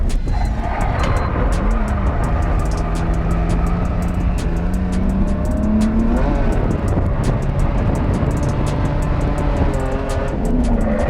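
BMW car driven hard on a race track, heard from inside: a loud, continuous engine drone with rising and falling pitch through shifts and braking, plus faint tire noise.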